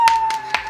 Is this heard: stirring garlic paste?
no